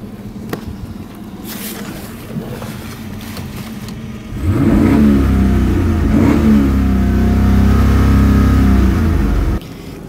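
A 2015 Chevrolet Camaro's 6.2-liter engine idles, then revs up loudly into a deep, sustained roar for several seconds before cutting back, with no talking.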